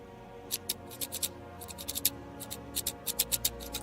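Quick snipping of scissors, short crisp cuts in irregular bursts of two to four, close by over a low steady background hum.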